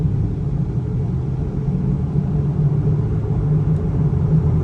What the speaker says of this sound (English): what I think sounds like the wheel bearings in the front